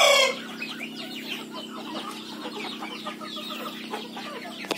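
Several three-month-old chickens on a poultry farm cluck and chatter continuously over a steady mechanical hum, with one louder crow-like call at the start.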